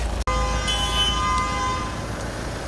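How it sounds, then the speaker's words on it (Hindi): A loud, sustained horn blares continuously over steady traffic rumble, preceded by a brief sharp dropout at the start. "हॉर्न बज रहे हैं इतनी तेज़ बहुत ही गलत।"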